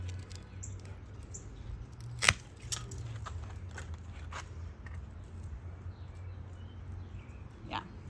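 Pruning shears snip a few times at dead rose bush stems, a handful of brief, crisp clicks spread out over a low background hum, with a voice talking in the clip.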